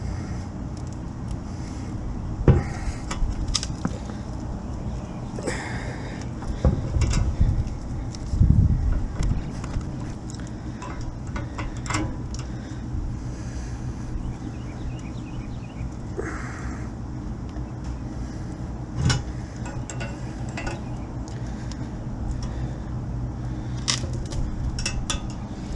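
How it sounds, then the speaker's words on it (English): A gas tank bracket with a weak weld is bent back and forth and snapped off, producing scattered metallic clanks and creaks, with a few sharper knocks over low, steady background rumble. "So I'm going to see if I can bend this bracket off and break it off just like that one broke off."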